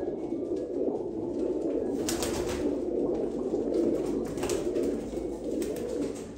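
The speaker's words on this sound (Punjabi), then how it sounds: "ਓਰੀਜਨਲ ਟੈਡੀ ਕਬੂਤਰ ਭਾਈ, ਓਰੀਜਨਲ।" Teddy pigeons at a breeder's loft cooing nearby, low throaty coos repeating steadily, with a few brief rustles and flaps in the background.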